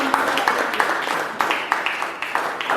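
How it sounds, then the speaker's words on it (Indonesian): A classroom full of students claps in applause, a brief burst of rapid, scattered hand claps at moderate loudness that fades toward the end. "Beri aplaus."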